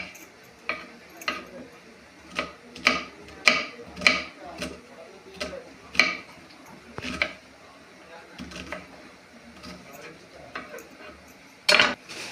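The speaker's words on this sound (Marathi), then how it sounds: "इथं कांदा कापत आहे आता" Knife chopping onion on a cutting board in a home kitchen, a run of sharp, irregular taps close by and fairly quiet, each cut clicking against the board.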